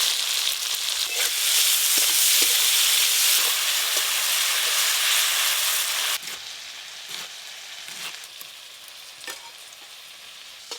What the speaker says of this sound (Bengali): মোচা রান্নার জন্য চিংড়ি মাছগুলোও ভালো করে ভেজে নেব